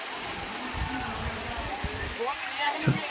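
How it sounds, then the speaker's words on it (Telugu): A low waterfall among hills at Pandav Lanka, heard as a steady broad rush of falling water running through the whole stretch, with a voice speaking faintly over it. "బాగా తగ్గినాయండి వాటర్ ఫాల్స్."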